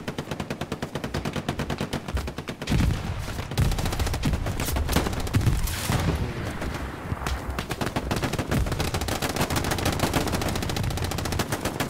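Rapid machine gun bursts and rifle fire from the Hell Let Loose war game fill the stretch, dense and loud with overlapping volleys and a heavier cluster midway, no talking.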